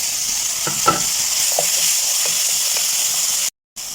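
Vegetable biryani with tomato and green chili sizzles steadily in a hot pan while a utensil stirs it, a loud continuous frying hiss broken by soft scraping knocks and one brief cut to silence.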